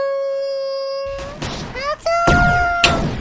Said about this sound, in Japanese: 燃料に引火して爆発してしまいました。